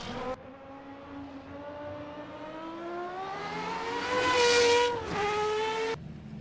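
A 1990 Formula RSS V10 race car engine in the Assetto Corsa racing game screams loudly as revs climb steadily through a gear, briefly dip at a shift, then hold high before cutting off.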